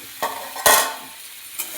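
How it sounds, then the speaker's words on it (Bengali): Food being stirred while it fries in oil in a pan, with a few scraping bursts over a steady sizzle, the loudest stir in the middle. "এখন আমি একটু নাড়াচাড়া করে নিচ্ছি"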